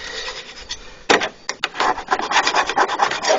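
Gasket scraping on the thermostat housing of a 2003 Jeep with the 4.0 engine. A close, steady rasping rub gets louder after the first second and keeps going in short, uneven strokes. No voices.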